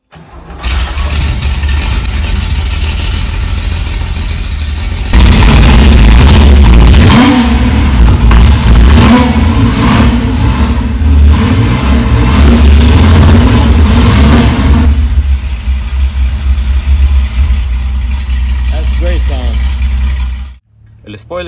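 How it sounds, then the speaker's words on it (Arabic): A 1973 Porsche 911 RSR Carrera engine, loud and close, with a rough idle building to a strong, sustained rev that holds for several seconds, then drops back to idle before cutting off. "قال لي لازم تسمع صوت الموتور بتاعه"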